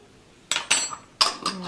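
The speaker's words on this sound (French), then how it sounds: "Je mélange le tout." A spoon clinks against a pot or bowl while stirring agar-agar powder into hazelnut milk, giving four short, bright metallic knocks in two pairs, close and fairly quiet.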